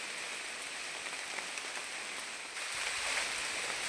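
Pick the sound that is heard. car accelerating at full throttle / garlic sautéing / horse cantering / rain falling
rain falling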